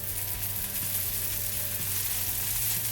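Instant crispy onion rava dosa roasting in ghee or oil on a pan gives off a continuous, even sizzle, close and steady, with no voices over it.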